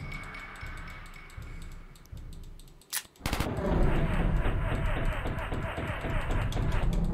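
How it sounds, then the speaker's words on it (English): Gunfire in the Henry Stickmin video game, a sharp burst of shots cracking out midway against a murky background of game noise, followed by dense rumbling action. "Oh boy, they're gonna shoot me!"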